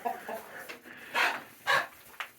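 A small bantam rooster on a small-town homestead gives a few short clucking calls in bursts, fairly close and moderately loud, with quieter bird sounds between them.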